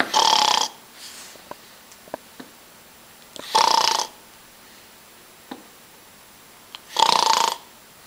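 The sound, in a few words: person imitating snoring to test a snore-detecting pillow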